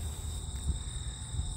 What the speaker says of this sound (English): The crickets and frogs are just going nuts for some reason.